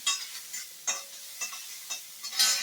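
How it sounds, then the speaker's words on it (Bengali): Radhuni seeds sizzle in a small amount of oil, soft frying hiss broken by several sharp spattering bursts at roughly half-second intervals, close and fairly quiet, with no talking. "এই রাঁধুনিটা ফোড়ন দিলাম"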